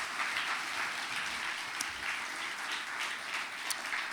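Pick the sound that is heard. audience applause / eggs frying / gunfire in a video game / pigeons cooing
audience applause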